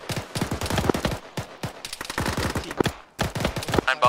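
Rapid gunfire from a weapon in a military combat video game, bursts of sharp shots in quick succession with brief pauses, loud and close.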